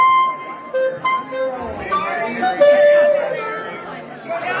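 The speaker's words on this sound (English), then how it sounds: "Let me show you the crowd" A crowd at a polka band's New Year's Eve party chatters in a steady close babble of overlapping voices, with laughter and a few brief whistle-like tones rising above it.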